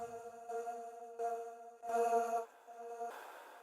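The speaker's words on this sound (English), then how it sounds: "This is actually a sample from my Sleepless pack." A vocal sample from a sample pack plays alone as sustained, tonal sung phrases in short separate bursts, clean and fairly quiet with no talking over it.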